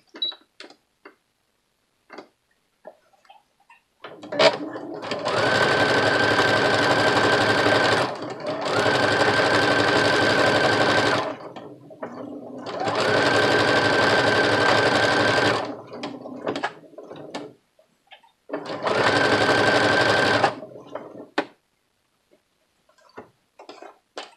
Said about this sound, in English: I'm going to do a basting stitch. So I'm putting this on my longest stitch, which is 5.